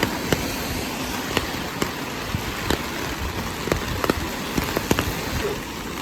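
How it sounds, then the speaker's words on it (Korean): Heavy rain pours outdoors in strong wind, a steady dense wash with scattered sharp drops and gusty rumble throughout, no one speaking. "비가 되게 많이 와요. 근데 바람이 엄청나게 세요."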